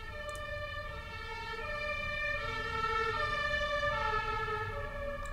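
Emergency vehicle siren wailing outside in Munich's Isarvorstadt district, a steady two-tone howl holding across the whole stretch at moderate distance, with no talk over it.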